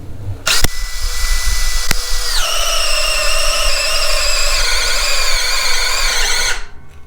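A Makita 18V brushless cordless drill boring with a 3/4 inch auger bit: a loud, steady whining motor that drops in pitch as the bit bites into the wood, running for several seconds before stopping abruptly.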